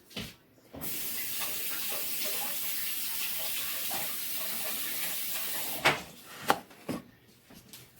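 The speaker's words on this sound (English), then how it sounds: "Let me wash my hands." Tap water runs steadily into a sink during hand washing for about five seconds, then shuts off, followed by a few close splashes and clunks.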